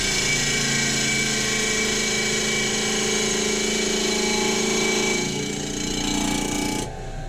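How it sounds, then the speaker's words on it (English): A powered sander grinds steadily against a wood turning, sanding it down to a stop block with a continuous droning hum that shifts slightly near the end before stopping. "When that's smooth, I'll flip it over and sand it down to the stop block."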